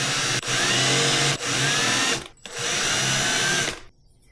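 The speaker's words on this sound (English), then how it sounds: "one thing I want to do real quick is get a countersink all these holes so it's a little smoother" A power drill countersinks holes in a titanium and brass blade bait fishing lure, whining loudly in three close runs with short pauses between, then cutting off.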